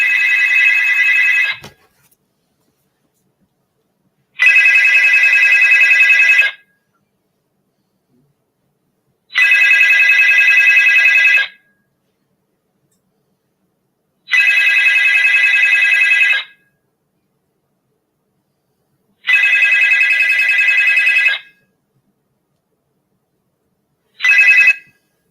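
A telephone rings in five long electronic bursts, evenly spaced with silent gaps between them, and a sixth ring is cut short as the caller hangs up before anyone answers.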